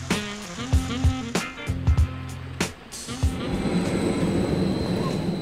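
A tram in Stuttgart, on a hillside route, rumbles past with low mechanical humming and a few sharp metallic clunks, then a steady broad roar of rolling wheels takes over.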